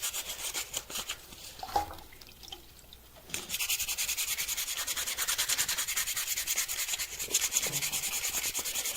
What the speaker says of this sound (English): So we just need to sand away.